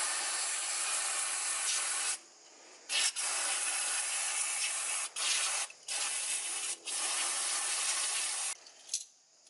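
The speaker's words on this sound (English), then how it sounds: "Now I'll just use a bit of degreaser just to get all those last little bits of grease out of there." Degreaser sprayed in long hissing bursts onto Isuzu MU-X/D-MAX front wheel bearings, several sustained sprays broken by short pauses, close and steady with no talking.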